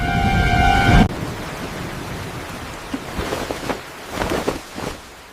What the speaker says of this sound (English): Mochi's outside in the storm!